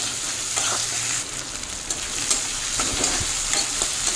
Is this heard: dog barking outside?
no